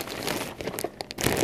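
Paper crumples and crinkles close by at an art-journaling craft table, a quick burst of dry rustling and crackling lasting just over a second.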